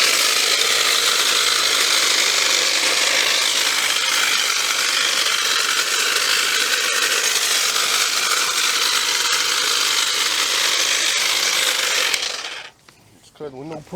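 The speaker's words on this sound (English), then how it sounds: "I go get a Cobalt chainsaw, 24 volt." A Kobalt 24-volt cordless chainsaw cuts steadily for about twelve seconds, a loud, continuous buzzing whine close by, then stops abruptly, leaving brief rattles and knocks.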